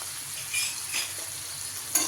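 Brinjal being stirred in a pan with salt and turmeric, a soft scraping and faint sizzle running steadily with a slightly louder stir near the end, no talking.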